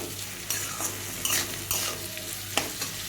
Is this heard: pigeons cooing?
no